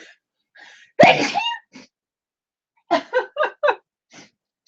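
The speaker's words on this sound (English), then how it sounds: "I'm one of those loud sneezers" A single loud, sharp sneeze bursts out near the start, followed by soft breaths and a quick run of short, giggly vocal sounds.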